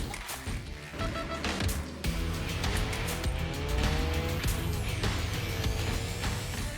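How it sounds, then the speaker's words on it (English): A Mazda MX-5 rounds a roundabout nearby, with the engine note rising and falling and tires squealing briefly through the turn. "We're up in the action as the car comes around that roundabout."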